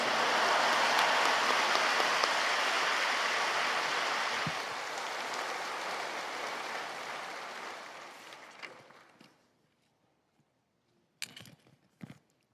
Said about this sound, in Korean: 이제 목사님을 할렐루야로 박수로 맞이하겠습니다.